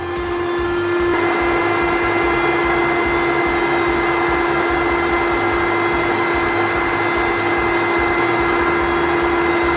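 A fan on its second setting forces hot air into a lump charcoal fire on a Jumbuck spit used for cooking gyros. It makes a loud, steady whirring hum that steps up after about a second and holds without talk.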